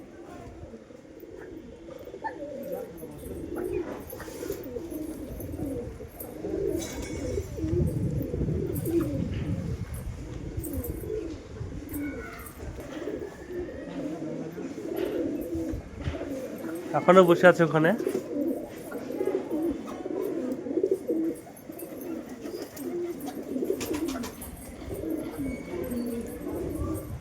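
Pigeons on a sunny rooftop coo softly and repeatedly amid low outdoor ambience, with someone speaking over them and a brief flutter of wings partway through.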